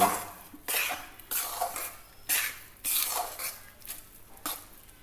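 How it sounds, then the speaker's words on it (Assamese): Besan barfi mixture stirred in a pan, a spoon scraping and clanking against the metal in repeated rhythmic strokes, close and fairly loud with no talking. "এতিয়া লৰাই দিম। লৰাই থাকিব নহ'লে পুৰি যাব।"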